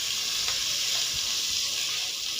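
Curry leaves sautéing in hot oil for vegetable pulao, a steady bright sizzle with faint stirring taps, close and continuous without speech.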